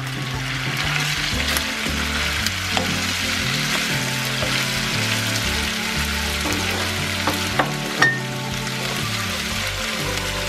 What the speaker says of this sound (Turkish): Şimdi domatesimi ilave ediyorum.